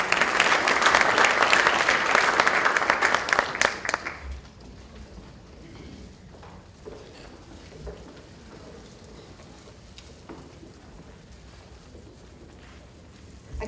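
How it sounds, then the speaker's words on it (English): Audience at a school honors ceremony applauding students, a loud, dense burst of clapping for the first four seconds that quickly dies away into quiet room tone with a few scattered claps. "let's give them a round of applause"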